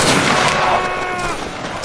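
Musket volley fire rolls out in a Napoleonic line battle game, as dense overlapping shots from a line of Saxon fusiliers crackle loudly and echo away, with no talking over it.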